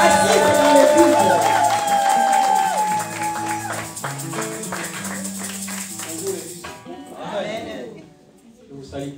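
A church congregation at a Sunday service claps and cheers for several seconds. The applause fades out toward the end, and voices are heard through it.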